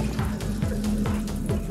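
A kitchen sink faucet runs steadily in a new handleless Cleanup system kitchen, a soft, even water flow heard close by with no talk.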